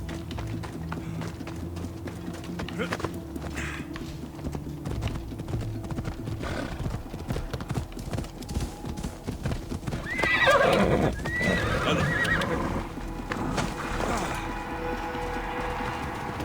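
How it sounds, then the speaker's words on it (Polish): In the video game Assassin's Creed Odyssey, a horse clip-clops along at a steady gait and lets out a whinny partway through, with game ambience and a voice in the background. "Gdzie ten mój koń znowu?"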